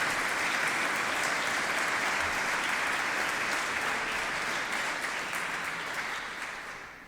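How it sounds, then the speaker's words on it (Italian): A theatre audience claps steadily for several seconds, a dense even wash of applause that slowly fades toward the end. "Un applauso anche ai nostri."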